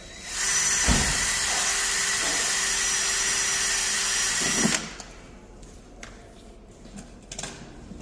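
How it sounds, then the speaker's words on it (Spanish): A power drill with a thin bit whines loudly and steadily for about four seconds drilling into a fire door's sheet metal, then cuts off, leaving quieter clicks and handling sounds. "Cuidado a la hora de taladrar."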